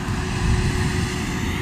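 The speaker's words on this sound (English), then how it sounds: "much like you hear that truck." A truck rumbles past outdoors in a storm-damaged area, a steady low drone heard at moderate distance with no speech over it.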